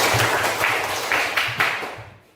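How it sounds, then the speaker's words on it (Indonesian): A burst of applause from a group at a school class presentation, steady clapping that gradually fades out toward the end. "Tepuk tangan semuanya."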